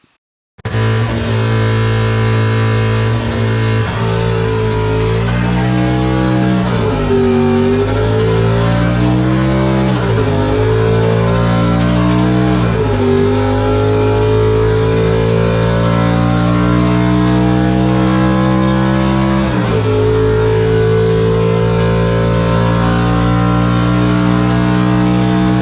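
A 1956 Corvette drag car engine revs hard and loud through four crisp gear shifts, pitch climbing and dropping with each change across a full run, with no talk over the steady roar.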